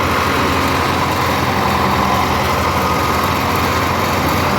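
An old Fiat 640 75 hp tractor engine runs with a thresher attached, a loud, steady, close mechanical drone throughout with no talking.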